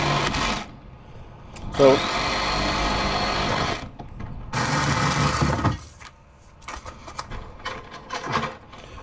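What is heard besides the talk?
Milwaukee Sawzall reciprocating saw cutting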